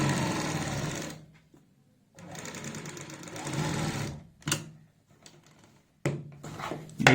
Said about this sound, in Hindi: इसको हम ऐसे इस साइड में फोल्ड कर लेंगे इस तरीके से, और ऊपर से लगा देंगे यहाँ पे सिलाई